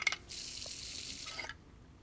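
Hot water pours steadily for about a second and a quarter while making tea in the hidden-object adventure game Lady Mabel Mysteries: Death on Board, a soft hissing stream with a couple of faint clinks before it.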